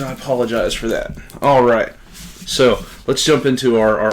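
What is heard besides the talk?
None of the usual background noises is heard.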